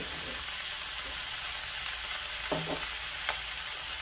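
Chinese kale stir-fried with canned fish, fish sauce and oyster sauce, giving a steady low frying sizzle with a few soft stirring scrapes and clinks of a utensil against the pan.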